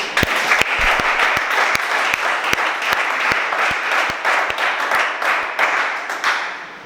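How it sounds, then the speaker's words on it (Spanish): Church congregation applauding during a Spanish-language sermon, a steady dense wash of clapping with sharper individual claps punctuating it throughout, loud and close, no talk over it. "Aplauda el nombre de Jesús"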